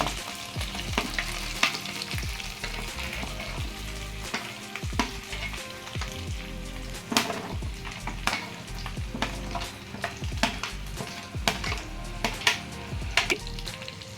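Fried vegetables with ginger and cumin paste frying in a pan, a dense continuous sizzle with frequent crisp spatters and utensil clinks as pieces are added and stirred, nearby and without talk.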